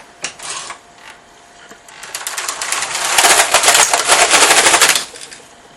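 A Passap knitting machine carriage is pushed across a single row, a rapid mechanical clatter and rattle that builds, stays loud for a couple of seconds and then stops, after a few separate clicks at the start.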